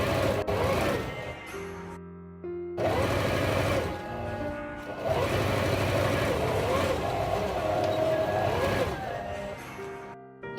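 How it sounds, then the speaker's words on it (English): A sewing machine stitches canvas fabric face masks in steady, loud runs, each burst of rapid mechanical whirring broken by short pauses between seams. "then I start sewing it one by one"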